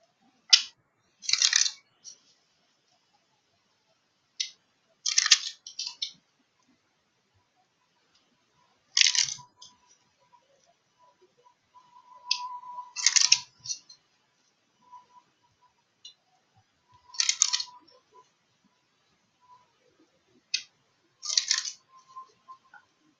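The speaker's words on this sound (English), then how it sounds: "I'm going to pull a card from the Romance Angels Oracle deck by Doreen Virtue." Romance Angels oracle cards being shuffled and drawn from the deck, making several short crisp papery flicks and riffles in separate bursts with quiet gaps between, close and alone in a silent room.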